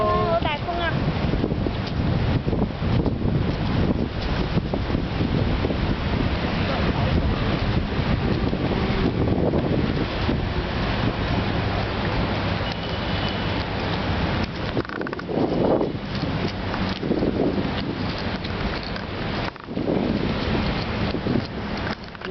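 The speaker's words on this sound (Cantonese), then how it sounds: "好大風啊！" Strong wind buffets the microphone outdoors on a walk with a toddler across wet ground and a slope, a continuous loud rushing roar throughout with voices talking over it.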